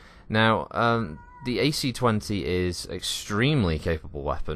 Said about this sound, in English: You may hear a cat in the background, I apologise.